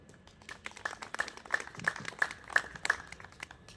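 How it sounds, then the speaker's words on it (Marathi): Audience applause at a Marathi community felicitation event held by a badminton group for Savitribai Phule's birth anniversary, a quiet, moderately distant patter of hand claps building over a few seconds without speech. "यासाठी साहेबांनी टाळ्या वाजवा"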